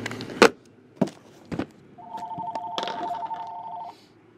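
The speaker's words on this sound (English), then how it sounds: "Phone ringing, dude." A telephone rings with a steady electronic tone lasting about two seconds, preceded by several loud knocks and thumps nearby; no one speaks over it.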